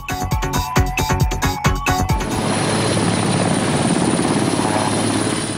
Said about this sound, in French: L'aviation met des hélicoptères de type Super Puma à disposition des troupes sanitaires.